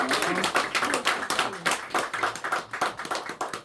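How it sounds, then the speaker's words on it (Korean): Congregation clapping together during a New Year's Eve church worship service, a dense, steady patter of many hands filling the room at moderate volume. "우리 하나님께 영광의 박수 올려드리겠습니다."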